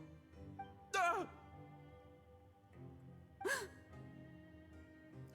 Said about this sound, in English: The gasp.